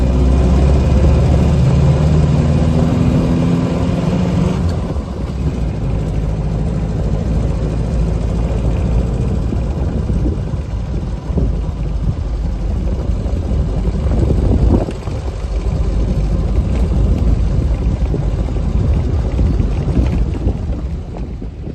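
A 1936 Austin Seven Ruby's small engine runs steadily and loudly for the whole stretch, a continuous mechanical drone with slight shifts in pitch and no voices.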